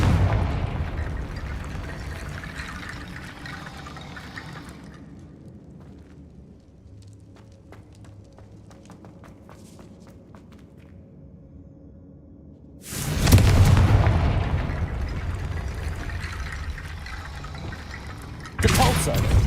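Confringo fire spell explosions in the game Hogwarts Legacy: two loud, broadband blasts, a big one with a sustained roaring tail and a second starting right at the end, following a quieter stretch of low rumble and faint ticks.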